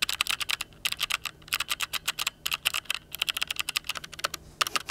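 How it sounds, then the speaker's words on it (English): A GK71 clicky mechanical keyboard is typed on up close, bursts of sharp, rapid key clicks with brief pauses between runs. "I'll do some mock typing"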